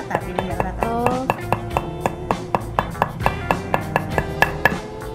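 Coconut leaf ribs are struck repeatedly for a broom craft, making sharp, regular knocks about twice per second, close and fairly loud, with people talking in between.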